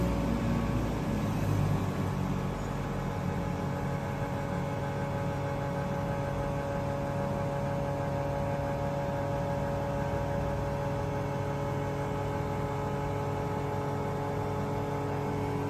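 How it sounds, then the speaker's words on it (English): A vacuum pump on a lipstick vacuum mixer hums steadily without a break, a low motor tone with faint tonal whine, unchanging for the whole stretch. "You can stop it manually by turning off this pump."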